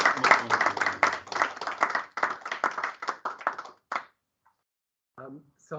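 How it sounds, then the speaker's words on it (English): Audience clapping after a talk at a political theory workshop, a steady run of claps for about four seconds that then stops, with brief voice sounds near the end. "I'm very pleased to see by the applause that we do still have some online participants"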